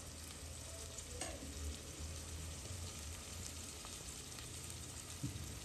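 Tomatoes cook down in a pan of spicy cabbage curry, a faint steady frying hiss with a couple of soft stirring knocks, close but quiet and without talking.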